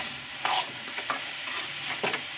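A utensil stirs grated coconut frying in a pan, scraping in several distinct strokes over a steady, bright sizzle, close and alone without talk.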